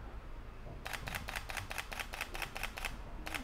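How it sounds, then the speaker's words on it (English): A camera shutter fires in a rapid, even burst of about ten crisp clicks with a Neewer battery-powered studio flash, then pauses briefly before one more click, close and clear in a quiet room. "Just hitting the shutter button, just holding it."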